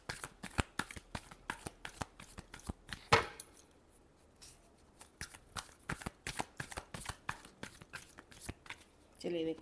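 Tarot cards are shuffled close up in rapid, regular riffling bursts, a crisp flutter of snaps that pauses briefly midway while a voice talks over it, then resumes in a steady rhythm.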